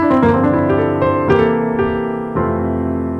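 A quick gospel-style piano lick on the four chord, several rolled notes and chords, played solo and close, each strike ringing into the next.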